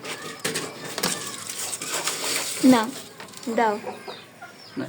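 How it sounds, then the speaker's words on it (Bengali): Several Pakistani-breed chickens cluck nearby in short, rising calls over a busy background, with a couple of distinct squawky clucks in the middle. "এগুলো হচ্ছে আমার অরিজিনাল পাকিস্তানি মুরগি"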